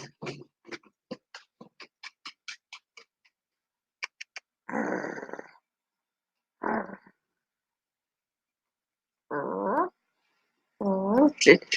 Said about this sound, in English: She's whisper growling.